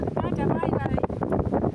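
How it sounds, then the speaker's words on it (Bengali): Strong wind buffets the microphone in a steady roaring rush, with voices faintly underneath. "এত হাওয়া দিচ্ছে টুপি উড়ে চলে যাচ্ছে"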